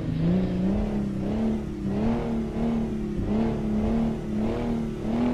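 A Kenworth W900 truck engine in American Truck Simulator accelerates through gears during a race, a loud, droning rev that climbs and dips repeatedly in steady cycles, continuous with no talk.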